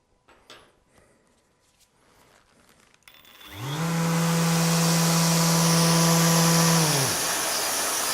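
A Festool ETS EC 150/3 eccentric sander starts up after some faint handling clicks and then runs with its pad spinning freely without a brake, giving a loud, steady whine that holds for several seconds before easing slightly.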